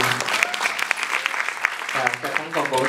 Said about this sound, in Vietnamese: các bạn còn vỗ tay, cảm ơn chị Thu Minh.